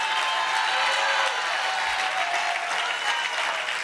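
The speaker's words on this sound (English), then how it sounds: "Clap your hands." A church congregation claps together in sustained, dense applause during a sermon, loud and continuous throughout without a break.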